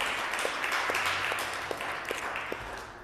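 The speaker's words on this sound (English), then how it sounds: "Give yourself a little round of applause," A small yoga class applauds itself at the end of a vinyasa session: a moderate patter of clapping from a modest group in a room, with a few sharper individual claps standing out as it gradually fades.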